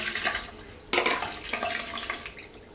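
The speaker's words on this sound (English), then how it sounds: "And put some hot water inside." Hot water poured into a shower drain while cleaning a stinky drain, heard as a steady close splashing, gurgling pour that starts abruptly and runs continuously, with no talking.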